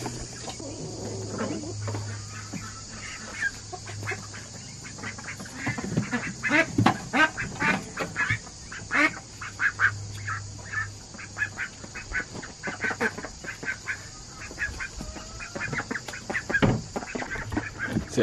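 Ducks quack repeatedly in short, overlapping bursts at close range, with a steady background hum throughout.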